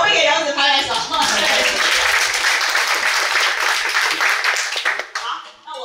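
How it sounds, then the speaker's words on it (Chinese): An audience at an academic lecture on Taoist manuscripts and altar traditions bursts into loud, sustained applause, dense clapping filling the room for several seconds before tapering off. "我会给荣子拍拍手。"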